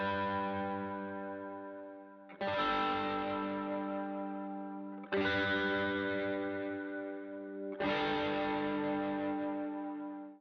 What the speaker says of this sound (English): I used the Corey Wong amp with the overdrive and distortion engaged, and I also used the doubler to give it that stereo width.